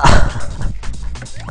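A dog in a video game barks loudly, then gives a string of short whimpers and yips, close and clear with no talk over it.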